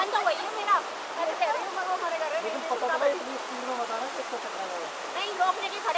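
Cold river water flowing at a riverside near Chennai, a steady broadband rush heard under frequent voices of people talking and calling out.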